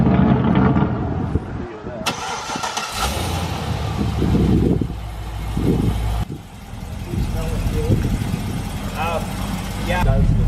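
A Chevrolet Corvette C6 Z06 strapped to a dyno cranks and fires with a sudden loud roar, then settles into a rough, loud idle with a few blips, while people talk nearby.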